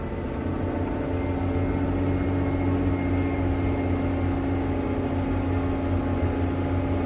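A farm cart's engine drones steadily while climbing a steep slope during a long move on a farm, a constant low rumbling hum that holds at the same level throughout with no talk.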